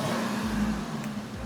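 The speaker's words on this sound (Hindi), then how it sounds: "इसका साउंड नोट काफ़ी हद तक जी वैगन से मिलता जुलता है" Steady idle of a Lexus LX 570 WALD V8 fitted with quad exhausts, a continuous low rumble heard alone and close by.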